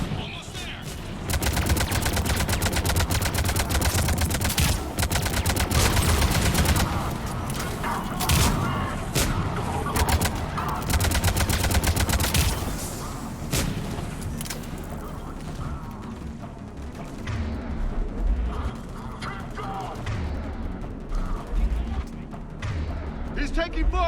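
Heavy gunfire and explosions in the video game Mass Effect 3: sustained bursts of automatic fire and booming blasts crowd together loudly, easing into scattered shots toward the end, with voices talking over the combat.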